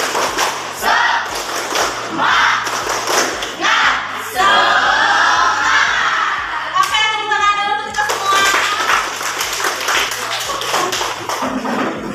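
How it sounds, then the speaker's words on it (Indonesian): A classroom doing the tepuk semangat clapping chant, rhythmic group claps in patterned bursts mixed with children's chanted voices and shouts, fairly close and lively throughout. "Ayo semuanya berdiri, tepuk semangat."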